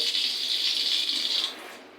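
Steady water streams from a faucet for about a second and a half, then cuts off, leaving a quiet tail.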